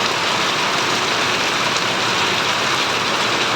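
Very heavy rain pours down in a dense, constant hiss, loud and close and unbroken across the whole stretch, with no talking.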